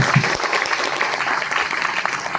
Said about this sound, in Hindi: आपके लिए एक बार जोरदार तालियां